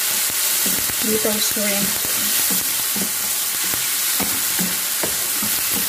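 Pork sautés in a pan for ginisang sugpo with pork, a close, steady frying sizzle broken by clacking, scraping stirs. A short spoken remark comes early on.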